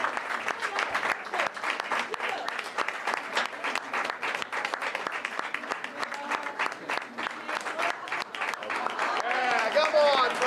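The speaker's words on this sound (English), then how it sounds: "Round of applause." A school district governing board meeting audience applauds retirees with dense, sustained clapping for about ten seconds, with a few voices calling out over it near the end.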